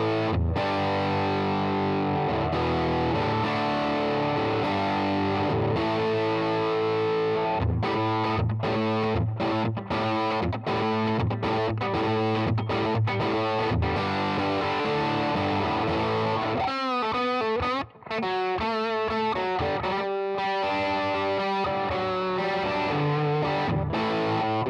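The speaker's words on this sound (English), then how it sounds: "If I switch to the bridge pickup now, bridge pickup's currently on 8, tones on 7, you're going to get" Tokai LoveRock electric guitar on the bridge pickup, volume on 8 and tone on 7, playing a biting distorted tone: continuous chords and fast picked riffs, loud and up close, with no talking.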